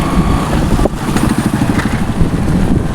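Engine of a vehicle on a village road in the hills around Rajula, a steady rumbling motor running throughout, fairly close and loud with no talk.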